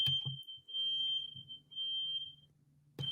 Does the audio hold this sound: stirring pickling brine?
no